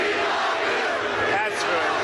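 A large crowd at a Trump rally chants in a dense, continuous roar of massed voices that stays loud and steady throughout.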